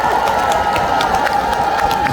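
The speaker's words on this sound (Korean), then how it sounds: "큰 박수 한 번만 주시겠어요?" Large festival crowd at a winter persimmon festival in Sangju, South Korea, cheering and applauding loudly and continuously under a tent, a dense steady roar of clapping and shouting voices.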